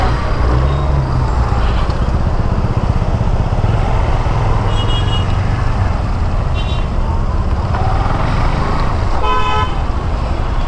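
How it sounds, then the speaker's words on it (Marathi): Loud, continuous engine rumble comes from slow traffic jammed on the Mumbai-Goa highway at Indapur during road works, with short car horn toots sounding close by in the second half. "हे बघा ट्रॅफिक पहा मित्रांनो, इंदापूरमध्ये आहे"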